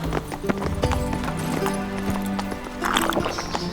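Roach the horse galloping in The Witcher 3, a quick, steady clip-clop of hooves with a whinny and background game sounds.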